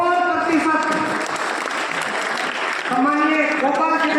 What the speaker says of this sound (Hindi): जोरदार तालियां इन बेटियों के लिए